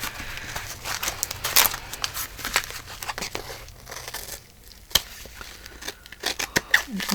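Scissors cut a paper piece for a junk journal cover, giving close, irregular snips and crinkles along with paper handling and soft rustling.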